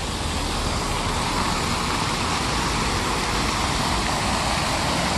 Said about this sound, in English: For some reason I like these water features a lot.